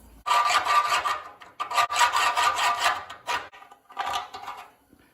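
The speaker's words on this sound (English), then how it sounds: "that's where the rat tail file comes in, to file that out a little bit so the bolt will fit" A rat tail file rasps back and forth through a powder-coated bolt hole on an MG TD rear suspension part, several loud, close strokes in bursts separated by short pauses, with no talking.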